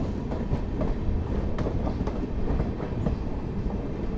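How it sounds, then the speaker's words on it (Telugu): The Sindhanur–KSR Bengaluru Express passes with a steady, rumbling rush and rhythmic clickety-clack of wheels over rail joints. It stays close and continuous throughout, with no voices. "సింధనూరు కేఎస్ఆర్ బెంగళూరు ఎక్స్ప్రెస్ అండి"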